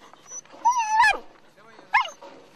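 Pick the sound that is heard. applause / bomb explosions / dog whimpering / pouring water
dog whimpering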